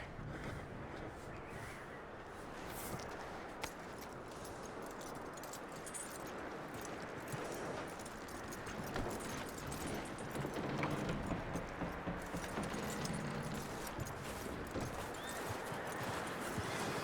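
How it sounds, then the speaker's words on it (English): Horse hooves clip-clopping in Red Dead Redemption 2, a dense continuous patter of steps with jingling tack in a noisy snowy outdoor scene, fairly faint, no clear talk. "That looks like a decent horse."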